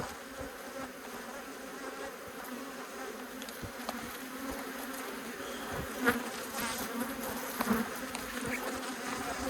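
A steady, close drone of many honey bees buzzing continuously at a hive, with occasional louder individual bees passing near.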